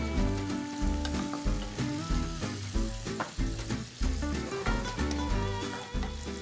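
Garlic sizzles in a hot pan with peas, a loud continuous frying crackle broken by repeated stirring scrapes and tosses at a roughly regular pace.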